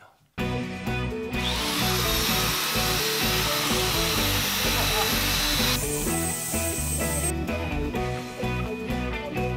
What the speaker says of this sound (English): Best part about woodworking is sanding.